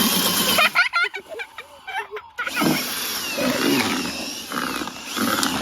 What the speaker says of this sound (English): Now we got to use the drill.